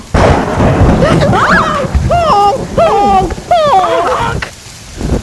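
A rain-and-thunder sound effect in a school stage play of Charlotte's Web makes a loud, rumbling wash that fills the scene, while an actor speaks over it throughout.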